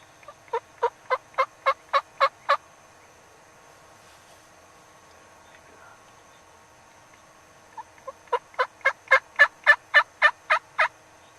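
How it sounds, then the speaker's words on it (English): Wild turkey gobbling in spring woods: two separate runs of rapid, pulsed gobbles, each about eight to ten bursts in quick rhythm, parted by several seconds of near silence with no talk. "we've heard one bird gobble 3 times, way off"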